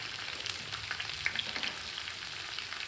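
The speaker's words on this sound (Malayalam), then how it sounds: "ഇതൊന്ന് ഇളക്കുകയാണ്." Onion, ginger and green chili sizzle gently in a pan with curry leaves, with faint stirring scrapes and a few small pops, soft and close, and no talking.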